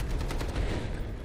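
An AKM rifle in the Delta Force video game fires a quick automatic burst, rapid evenly spaced cracks that fade into a brief tail, fairly quiet in the mix and with no talking.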